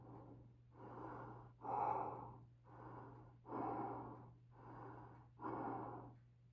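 Slow, heavy breathing inside a Star Wars Ren knight helmet from the 2024 Galaxy's Edge Life Day line, seven muffled in-and-out breaths in a steady rhythm, faint and close over a low constant hum.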